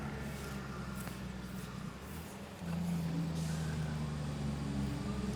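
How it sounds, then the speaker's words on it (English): A truck rumbles along a road near a rail trail, a low steady engine drone that swells louder as it draws closer outdoors. "Jeez, I got another freaking truck coming."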